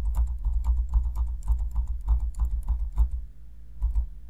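A computer keyboard used in CorelDRAW for a Ctrl+D shortcut, heard as a fast, fairly loud run of close key clicks over a low rumble, with no one speaking.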